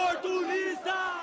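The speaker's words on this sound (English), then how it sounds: "Opportunists, they're shouting" A street protest crowd in Belo Horizonte, Brazil, chanting and shouting in unison, with sustained voiced cries rising and falling in two loud surges at moderate distance.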